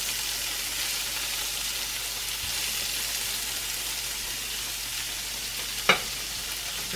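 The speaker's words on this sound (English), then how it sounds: "I would fry my onions first." Onions frying in a pan on medium heat, a steady broadband sizzle that holds evenly throughout, with one brief utensil tap near the end and no talking.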